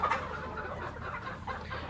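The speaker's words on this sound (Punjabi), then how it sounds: "ਆ ਗਿਆ ਆਪਣਾ ਮਿੱਤਰੋ ਮੁਰਗਾ" Short, close clucking from a rooster over a steady low hum, a few soft clucks spread across the moment.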